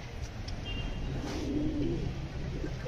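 Soft pigeon cooing murmurs through a steady background hum, low and continuous, with a few faint chirps above it.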